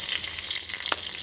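Mustard seeds, cumin, dried red chillies and asafoetida sizzle in hot tempering oil, a brief, steady hiss with one sharp pop, close by and with no talk.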